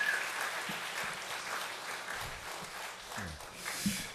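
A church congregation applauds during an award ceremony, a soft, diffuse spatter of clapping heard from a distance, fairly faint with a few scattered thumps.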